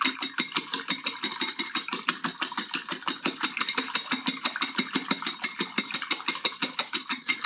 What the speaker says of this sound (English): gonna give those a whisk.